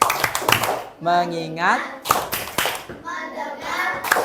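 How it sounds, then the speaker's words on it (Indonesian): Children in an elementary classroom religion lesson do a rhythmic clapping chant, with bursts of sharp, close hand claps alternating with their sung and spoken call-and-response voices. "untuk menambah semangat kita tepuk dulu. Tepuk fokus."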